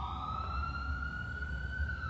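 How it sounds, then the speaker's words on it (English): An ambulance siren passes on a street outside a store in downtown Brooklyn, New York, a steady high wailing tone gliding slowly upward over low traffic rumble, moderately distant and continuous, with no voices. "Some fucking ambulance coming by outside the store."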